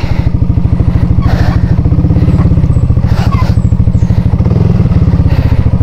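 A motorcycle engine idles close by near the Ammococan waterfalls, a loud, fast, even putter that runs unbroken, with faint clatter and thumps over it.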